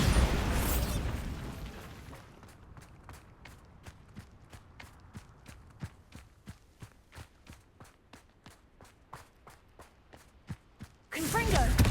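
A Bombarda explosion spell goes off in Hogwarts Legacy: a loud blast opens the clip, a long run of rhythmic, evenly spaced thuds follows, and a second loud burst closes it.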